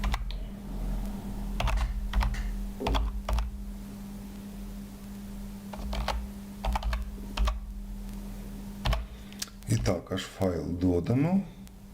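Code being typed on a computer keyboard, bursts of close key clicks with pauses between, while a person speaks over parts of the stretch and a steady electrical hum runs underneath.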